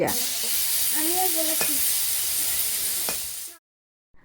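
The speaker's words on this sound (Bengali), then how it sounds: "এখানে তারপর বসিয়ে দিচ্ছে মূলো ভাজা" Radish frying in a pan: a steady, close sizzling hiss with a few faint clinks, cutting off abruptly near the end.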